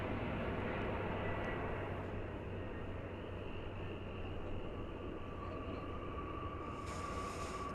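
Boeing 747-400 airliner arriving at DFW Airport, a faint distant broad roar of jet engines holding steady across the whole stretch, heard from outdoors with no talking.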